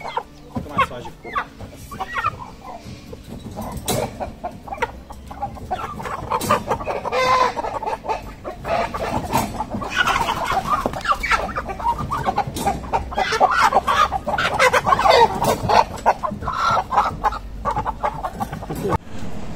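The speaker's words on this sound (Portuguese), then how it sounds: "Você traz aquelas galinhas pequenas, Rodrigo, que não ia dar." Índio Gigante chickens on a large breeding farm in Minas Gerais clucking steadily, with occasional crowing from a rooster, a busy flock sound close by with faint voices mixed in.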